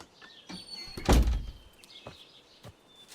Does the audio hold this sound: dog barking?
no